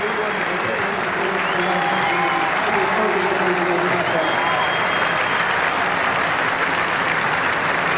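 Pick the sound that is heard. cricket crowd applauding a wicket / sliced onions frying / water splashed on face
cricket crowd applauding a wicket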